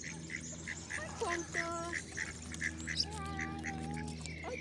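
Ducks quack in repeated short calls over steady background noise, with a brief spoken question partway through.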